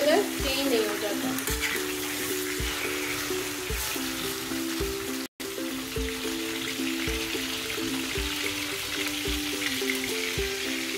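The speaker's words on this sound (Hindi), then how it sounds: "चिकन को हम भूनेंगे जब तक कलर चेंज नहीं हो जाता।" Chicken frying in a karahi, a steady sizzle with regular soft knocks of stirring and a low steady hum running beneath, briefly cut off midway.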